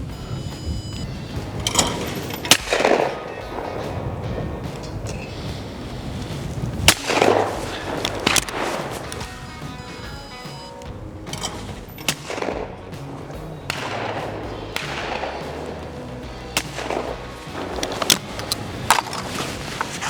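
Shotgun shots fired at report pairs of sporting clays targets outdoors, several sharp loud bangs spread across the stretch with quieter handling noise between them.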